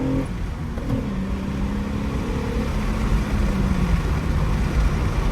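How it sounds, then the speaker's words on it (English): A 2003 Acura with 260 horsepower pulls hard through second gear, its engine note loud and steady inside the car with rising and shifting tones and a brief chirp, no voices over it. "Second gear chirp."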